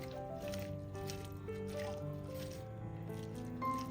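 Raw chicken is mixed by hand with sunflower oil for chicken kuzhimandi, giving soft, wet squishing and sloshing up close beneath steady background music.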